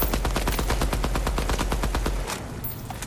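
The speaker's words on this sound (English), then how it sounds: "I'm just gonna shoot the gun how it shoots" An assault rifle in the video game Deadrop fires in a rapid automatic burst of about two dozen sharp, evenly spaced shots, loud and close, stopping abruptly and leaving a brief fading tail.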